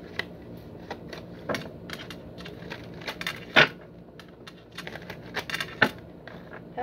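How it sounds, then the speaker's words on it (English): A deck of tarot cards is shuffled by hand nearby, giving irregular soft slaps and crisp riffling bursts with short quiet gaps between them. "Something was just telling me to shuffle"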